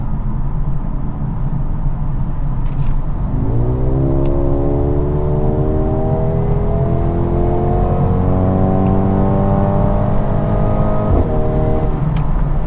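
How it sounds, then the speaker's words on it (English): A 2022 Mercedes GLB35 AMG accelerating hard from about 55 mph, the exhaust note climbing steadily in pitch through a long pull, loud and heard from inside the cabin with no talking. "That exhaust, oh my goodness, I love that exhaust."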